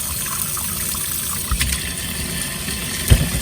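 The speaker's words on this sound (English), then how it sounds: "So now I'm gonna get ready to pour the water into the pot." Water is poured into a pot for a seafood boil, a steady splashing, gurgling rush with a few louder sloshes near the end, no talk over it.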